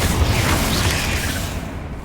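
A Confringo fire spell explodes in the video game Hogwarts Legacy, producing a loud, close, booming blast whose heavy rumble holds and slowly fades over about two seconds.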